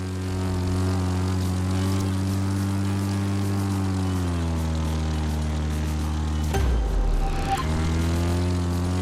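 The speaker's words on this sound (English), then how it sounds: "Just hold your right or left rudder pedal down for long enough and you'll get the hang of it." Airplane engine in The Crew 2 racing game, a sustained droning propeller hum with steady harmonics that dips slightly in pitch, then a brief rougher burst near the end.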